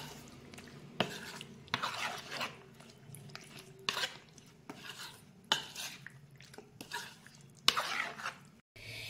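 Chicken pakora mixture with curry leaves is mixed by hand in a bowl, making close, quiet, wet squishing and slapping sounds in an irregular rhythm, with occasional knocks against the bowl.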